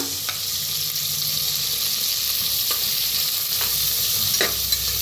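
A ground paste of coconut, ginger, coriander, green chillies and garlic roasts with chopped onion in a pan, a steady close sizzle with a few spaced spatula scrapes and no talking.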